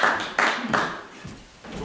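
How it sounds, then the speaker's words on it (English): Applause from a live audience at a holiday-themed magic show, rising in short bursts of clapping that swell and fade over a couple of seconds, moderately loud with no talk. "All of this applause is for you."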